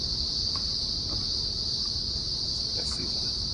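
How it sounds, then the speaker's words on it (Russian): Cicadas drone in one continuous high shrill chorus, steady and loud without a break, with faint scattered rustles underneath. "звук цикады, вот это крик, как насекомые"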